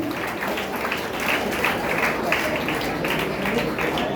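An audience gives strong applause for dignitaries at a school-organisation event, a thick, continuous patter of many hands clapping at close range throughout, with some voices mixed in.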